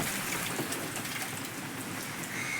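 Steady rain falling in a village, an even wash of patter without pause for a few seconds, moderately faint and with no voices.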